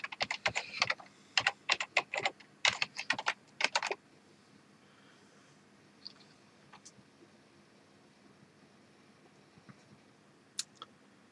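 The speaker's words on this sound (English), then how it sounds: "I just press enter here and my password." Password being typed on a computer keyboard, a quick run of close key clacks for about four seconds, then near silence with a few isolated clicks.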